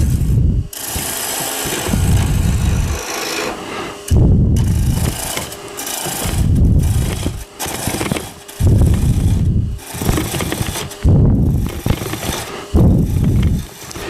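A Hunter Hercules turning tool scrapes a spinning wooden workpiece on a lathe, a loud close rasping whir in repeated passes of one to two seconds separated by brief breaks, with no voices.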